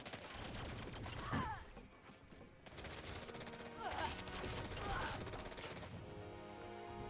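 Laser and weapons fire in the space game Elite Dangerous: bursts of crackling shots with a few sweeping zaps, continuous at moderate level, with people talking over it.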